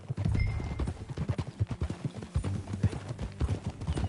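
Horse hooves clip-clop in a steady, fairly close rhythm in the video game Red Dead Redemption 2, continuing throughout at a moderate pace over a low background hum.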